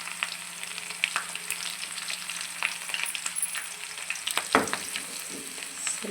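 Ground spices and Kashmiri chilli powder fry in a pan with a soft, continuous sizzle, broken by a few light stirring scrapes and clicks.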